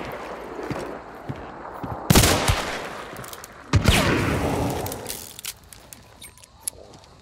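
Two loud, booming nitro rifle shots ring out in Hunt: Showdown, each followed by a long rolling echo, with faint footsteps and gear shuffling between them.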